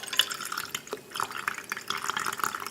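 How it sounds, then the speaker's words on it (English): Coconut water poured into a measuring cup in a home kitchen, a soft trickling and splashing fill that runs steadily for a few seconds, close and fairly quiet. "the first thing that I add to my smoothies is coconut water, and I just measure out 1 cup"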